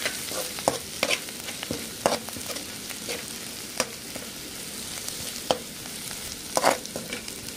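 A spoon stirs momo gravy stuffing in a hot frying pan, with a sizzling bed broken by repeated scraping and clacking strokes, close and fairly loud, no voices.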